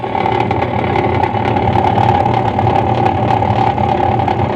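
A washing machine motor hums and spins steadily while its pulsator stays still, giving a continuous mechanical whir with a pronounced tonal buzz at close range.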